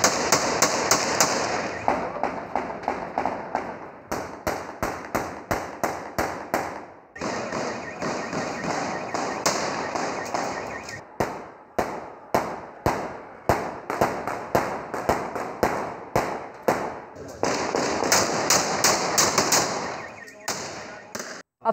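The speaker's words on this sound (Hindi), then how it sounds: "डिस्ट्रिक्ट बार में हवाई फायरिंग की फुटेज मंजर आम पर आ गई।" Aerial gunfire rings out at a district bar election among lawyers, a long run of rapid, loud, close shots in fast bursts with brief pauses, repeated over and over.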